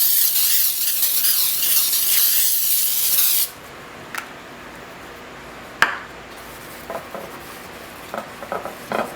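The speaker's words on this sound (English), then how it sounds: "I've got a glass pan, and I'm going to spray that." Pam baking spray with flour shot onto a glass baking pan: a loud, close hiss lasting about three and a half seconds, followed by quiet light taps and clinks against the glass.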